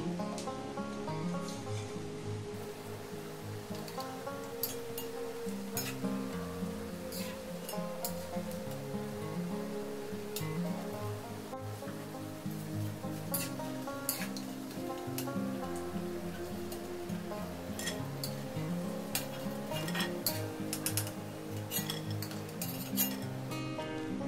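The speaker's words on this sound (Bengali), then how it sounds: "তো গোল্ডেন কালার করে এটা ভেজে নেব মুচমুচে করে" Potato and onion pakoras deep-fry in hot oil over a medium flame, a steady bubbling hiss running throughout with occasional light clinks and a faint tonal layer beneath.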